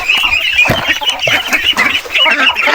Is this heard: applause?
no